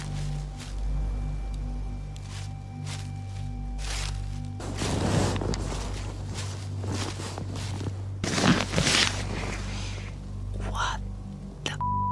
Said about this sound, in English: I just heard footsteps, but this time they sounded much closer, not farther in the path.